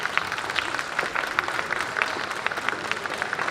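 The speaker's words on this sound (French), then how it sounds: "Vous pouvez faire un tonnerre d'applaudissements pour Célina." An audience at a cosplay show at a game convention claps continuously, a dense crackle of many hands at moderate distance, steady throughout with no voices standing out.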